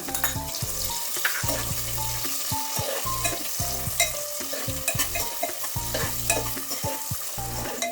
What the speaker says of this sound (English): Add 2 sliced onions and saute it till it starts to get brown.